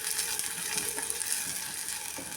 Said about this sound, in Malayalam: അതിലേക്ക് കടുക് ഇട്ട് കൊടുക്കാം, കറിവേപ്പില ഇട്ട് കൊടുക്കാം, ഉള്ളിയും കൂടി ഇട്ട് കൊടുക്കാം. ശേഷം ഒന്ന് ഇളക്കി കൊടുക്കാം.